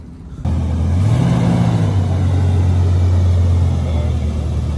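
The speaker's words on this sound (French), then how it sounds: "Corvette C3 les amis." Chevrolet Corvette C3 engine at a classic car gathering, a close, loud steady rumble that swells briefly in a rev before settling into a sustained idle-like drone.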